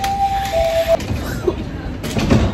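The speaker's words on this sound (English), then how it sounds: "At least we didn't miss the train." Train or rail transport sounds at a station: a steady tonal whine, then rumbling and sliding-door clatter, with brief voices underneath, moderately loud and close.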